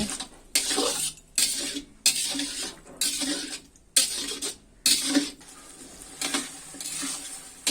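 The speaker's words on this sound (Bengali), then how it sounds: "এখন আমি সমস্ত মশলাগুলো ভালোভাবে কষিয়ে নিব।" Spices with cumin paste, ginger paste and red chili powder are sautéed in a pan for a potato curry, giving repeated close bursts of sizzling and scraping stirs with brief pauses between strokes, and no talk.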